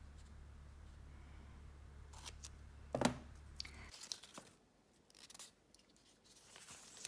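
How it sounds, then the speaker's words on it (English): Adhesive tape rips and crinkles as it is pulled and wrapped around a triangular tape block, with a sharp tearing burst followed by quieter crackles and rustles in a hushed room. "Wrap the tape over one leg of the tape block."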